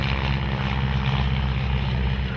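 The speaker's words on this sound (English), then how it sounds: "This plane was designed and built originally by Lloyd Stearman in Wichita, Kansas" Stearman biplane, a Boeing-built radial-engine trainer, flying at the Geneseo air show, gives a steady loud propeller drone that holds at constant strength throughout.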